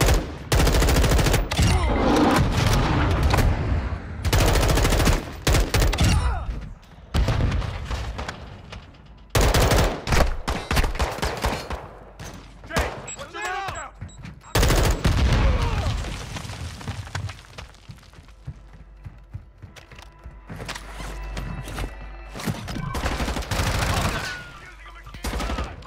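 Gunfire from the video game Warzone 2.0 on Ashika Island: loud, dense bursts of automatic weapon fire and heavy booms crowd the first half, ease into a quieter stretch, then return in sharper scattered volleys.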